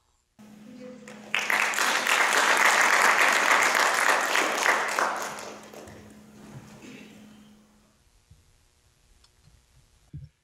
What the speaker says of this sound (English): I want you to welcome him with big applause.